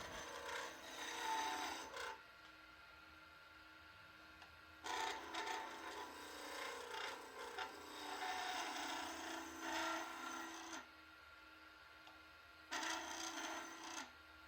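Skew chisel shaving a wooden Scottish spurtle on a lathe: three bursts of steady scraping and rasping, the longest in the middle, separated by quieter gaps with a faint motor hum.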